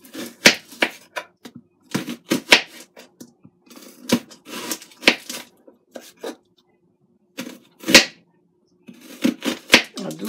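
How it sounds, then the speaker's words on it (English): A kitchen knife cuts through an onion in a series of sharp, irregular chops and thick slices, close and fairly loud, the strokes separated by short pauses. "Now I'm going to cut the onion."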